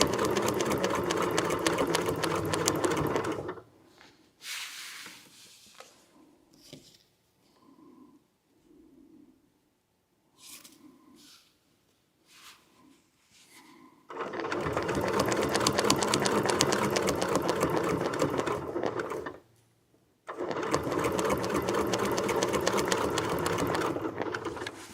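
A sewing machine stitches quilt blocks in loud, steady runs at the start and end, with a quieter stretch of soft handling noises and brief sounds in between.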